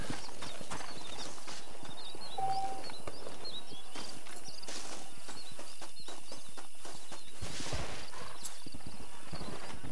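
Hooves clip-clop steadily on hard ground while a horse whinnies now and then, with faint birdsong in the background, in the video game Red Dead Redemption.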